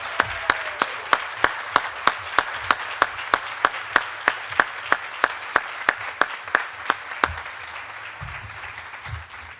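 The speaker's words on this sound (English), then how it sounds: "Let's all give them both a huge, huge round of applause." Audience at a school move-up ceremony claps for two teachers, steady rhythmic clapping that is fairly close and sustained, with sharp regular claps standing out before fading near the end.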